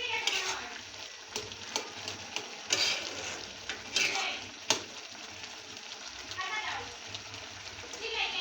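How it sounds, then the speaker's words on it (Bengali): Fish eggs sizzling in a pan as a spoon stirs them, a steady soft frying hiss broken by scraping strokes and light clinks, close and fairly quiet. "তো আস্তে ধীরে আমি রান্নাটা কমপ্লিট করবো"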